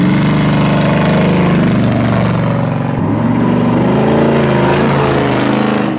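LT1 V8 engine in a 1960 Chevy Bel Air custom restomod, quieted exhaust, runs with a steady, close, loud rumbling drone that shifts in pitch midway, with no talking.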